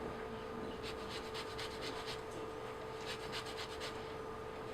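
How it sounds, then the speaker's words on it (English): A whole lemon being zested on a grater, two bursts of quick rhythmic scraping strokes, soft and close, over a faint background hum. "whole lemon. get all the zest off."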